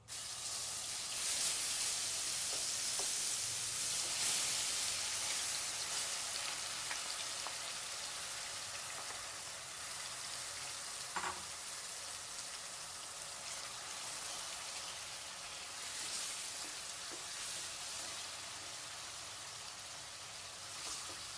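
Ground onion paste sizzles in hot oil while a raw jackfruit masala curry is cooked, making a steady, loud, bright hiss that runs without a break and with no talking.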